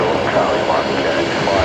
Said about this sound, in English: We've got another Link Airways sub coming into the bay just in front of me here.